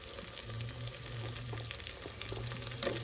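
Potato and other vegetables tossed into a frying pan with roasted tomato for veg pulao, giving a continuous low sizzle with scattered light clatters and a faint hum. No talking.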